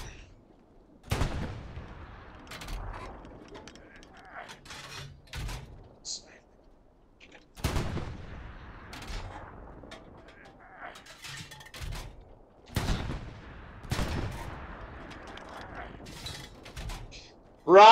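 Artillery rounds from a creeping barrage in the Hell Let Loose war game, several heavy booms spaced a few seconds apart with rumbling decay, under intermittent radio chatter between shots.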